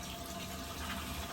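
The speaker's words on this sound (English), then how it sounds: "Just a pink flush down the toilet drain." Pink antifreeze flushes down the toilet drain of a 2023 Entrada 2200S RV, a steady close rushing and gurgling of liquid throughout the short stretch, with no voices.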